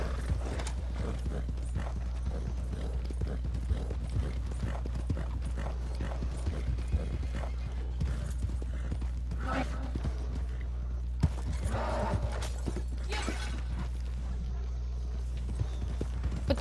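Steady clip-clop of horse hooves in the video game Red Dead Redemption 2 runs throughout, with mechanical clanks and an occasional whinny mixed in, loud and close.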